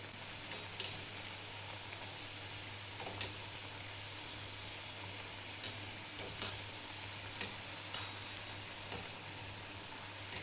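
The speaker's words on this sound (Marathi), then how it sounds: "तेल पण गरम झाले. तळून घ्यायचे आहेत." Sesame karanji, crescent pastries, frying in hot oil: a steady, soft sizzling hiss with scattered small pops and crackles, close and fairly quiet, no voices.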